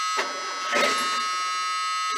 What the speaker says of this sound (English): Oh, that's a loud buzzer.